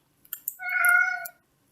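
A single close, clear cat meow, drawn out and rising then falling, preceded by a couple of soft clicks in an otherwise quiet room.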